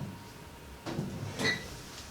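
A craft drawer holding paper scraps is pulled open, giving two quick, quiet sliding and knocking bursts close by in an otherwise hushed room.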